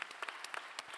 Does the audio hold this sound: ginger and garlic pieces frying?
no